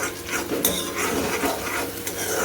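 Chopped onion frying on a low flame in a pan of crackled mustard-seed tempering, a steady close sizzle with stirring scrapes and a brief utensil clink, no voices.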